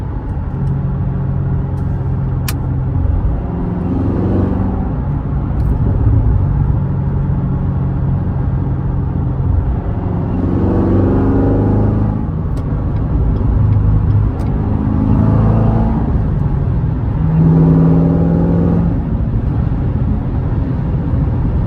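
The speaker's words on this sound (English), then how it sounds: "Let me open up the exhaust." A C7 Corvette Stingray with an Injen intake idles with a rumbling exhaust, broken by several loud revs with the exhaust valves open that sweep up in pitch and fall back, close by.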